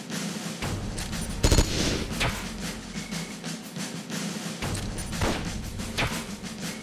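Gunfire from the video game Metal Gear Solid: Peace Walker, aimed at a Hind D helicopter, sounds as a dense, continuous barrage of shots and booms with a sharp burst near the start, layered over a steady low rumble.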